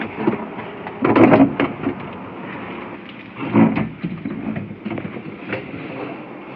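Thunderstorm with rain outdoors: a steady wash of rainfall with two heavy rumbling thunder bursts, one early and one midway, fairly close and loud.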